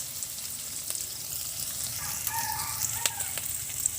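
Greens fry in mustard oil in a clay pot over an earthen stove, giving a steady, faint sizzle with a few brief sharper crackles near the end.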